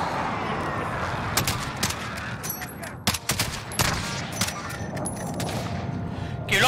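Rapid bursts of automatic gunfire and sharp shots in the battle royale shooter Warzone, crackling loudly in clusters with brief pauses, over game ambience and some talk.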